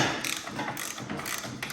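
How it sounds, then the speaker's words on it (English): Ratchet wrench with a 3/4 socket loosening a track drive pulley on a Troy-Bilt Storm Tracker 2890 snowblower, a quick series of close mechanical clicks and clatter, no talking. "You're gonna take a 3/4 socket, drop it in the snow and ice. You're gonna loosen this pulley up."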